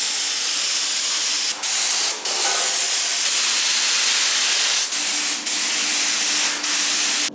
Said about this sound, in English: We've got JMO spray painting in the spray shop at the minute.